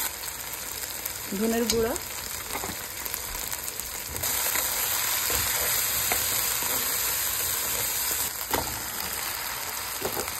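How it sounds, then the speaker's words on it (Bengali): Steady loud frying of potatoes with spices in a pan, a continuous hiss and crackle with occasional stirring scrapes, and a voice briefly speaking over it. "তার সাথে দিচ্ছে আলু, আলুগুলোকে ভালো করে কষিয়ে নিচ্ছে।"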